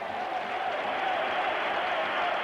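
A large football crowd at a 1984 Roma versus Dundee match applauding and cheering at half-time, a dense, sustained roar of clapping and voices from a distance.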